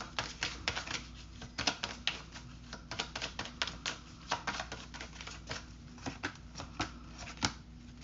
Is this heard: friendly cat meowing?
no